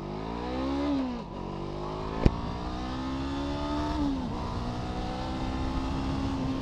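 A Brixton Crossfire 500 motorcycle engine revving up through gears on the road, rising pitch twice with a brief shift dip between, loud and close with a single sharp click midway.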